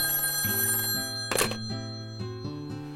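A telephone rings in a repeating bell-like pattern with a steady pulse, close and fairly loud, with a brief thump partway through and no voices.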